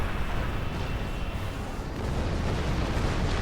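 Klingon warships pound the player's starship with a weapons barrage in Star Trek Online, a dense continuous roar of explosive rumble and booming fire that stays loud and steady throughout, with no voices.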